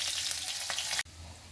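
Ginger and green chilies sauté in a pan with a bright, close sizzle that stops abruptly after about a second, leaving quiet background hum.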